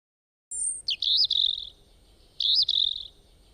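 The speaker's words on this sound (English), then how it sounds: "Bird." A small bird gives two separate bursts of high, bright chirping notes, fairly faint, over a low background hum with no voices.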